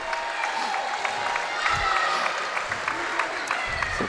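A crowd at a girls' varsity basketball game clapping as players come into the game, steady dense applause from the stands with people talking nearby.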